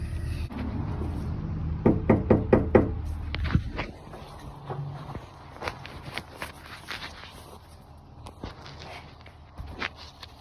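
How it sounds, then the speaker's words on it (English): A rapid series of about five firm knocks on a front door, close by, followed by quieter shuffling footsteps and scattered taps. "we'll knock on the door"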